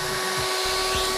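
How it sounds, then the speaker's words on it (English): Small vacuum cleaner sucking the air out of a giant Ziploc bag, a loud continuous motor whine close by with slight pitch shifts as the bag collapses, no talk. "I got a little vacuum cleaner."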